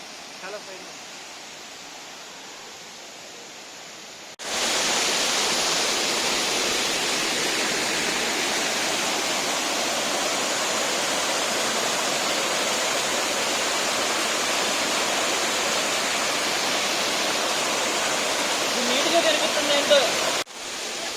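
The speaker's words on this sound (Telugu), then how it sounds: "సెల్లింగ్ గేట్ వాటర్ ఫాల్ దగ్గర ఉన్నాము. చూడండి వాటర్ ఫుల్గా ఫ్లో అవుతున్నాయి" A waterfall at Selling Gate in the Lankamala forest pours in a loud, dense, unbroken roar, close by, rising abruptly after a quieter opening and cutting off near the end.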